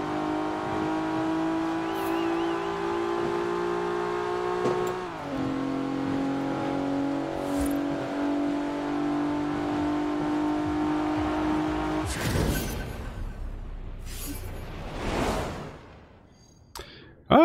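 A race car engine in Forza Horizon 4 holds a loud, steady high drone that shifts pitch as it changes gear, then whooshes and roars through quick passes near the end.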